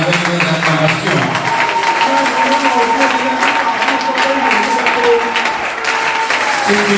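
Church congregation applauding and acclaiming in praise of God, loud continuous clapping mixed with raised voices and sustained sung or shouted tones throughout.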